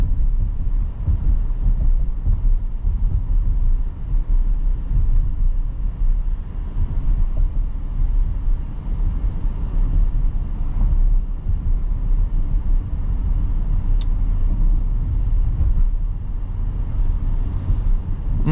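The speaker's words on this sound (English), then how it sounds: "this is a pretty rough road. But the Q7 does a tremendous job of soaking up all the bumps." A 2025 Audi Q7 45 Premium Plus with a turbocharged four-cylinder runs over a rough road, its steady low road rumble and tire noise filling the cabin continuously, with occasional faint bumps and no voices.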